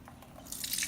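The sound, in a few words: pouring dirty rock tumbler water with coins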